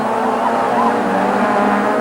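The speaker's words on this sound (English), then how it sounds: "these 5 leading cars start to spread out as they hit the West Bank shelf" Saloon racing cars in a 1994 Stannic SATCAR race at Kyalami circuit, a loud, sustained engine drone from a group of cars running close together, steady with no gaps.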